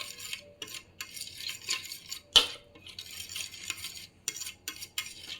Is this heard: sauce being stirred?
yes